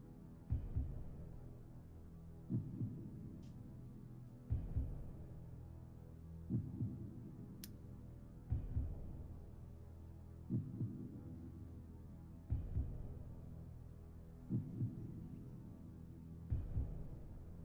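A steady, faint heartbeat from a sensor on a shaved rabbit's chest repeats as soft double thumps about every two seconds over a low hum.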